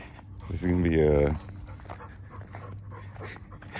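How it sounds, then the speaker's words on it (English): Close, rapid panting of a dog, a burst of quick breathy huffs with a short whiny vocal note, then softer breathing continuing. "Maybe if you like ASMR of dogs panting, this will be good for you."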